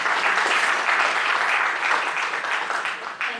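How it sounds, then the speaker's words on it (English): Audience applause at a formal event as a guest is called forward, a steady dense round of clapping filling the whole stretch at an even level. "A huge round of applause, ladies and gentlemen"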